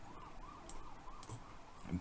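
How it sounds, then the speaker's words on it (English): An ambulance siren passes outside, faint and distant, its wailing tone rising and falling in a steady cycle across the short stretch. "And there's an ambulance coming."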